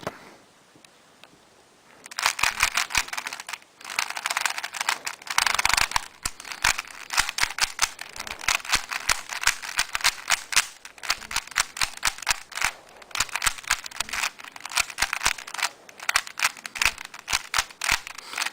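A 3x3 speed cube lubricated with silicone spray is turned rapidly by hand. After a quiet start, it gives off dense, clicky bursts of plastic turning sounds in quick rhythmic runs, with brief pauses between flurries, and is heard up close.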